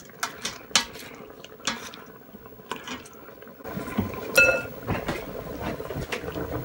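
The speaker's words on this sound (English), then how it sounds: "Just kind of give everything a light stir together" Light stirring of pork chops, Brussels sprouts and stock in an electric pressure cooker on saute, with scattered utensil clinks and scrapes against the pot over a low simmering bubble, close and fairly quiet.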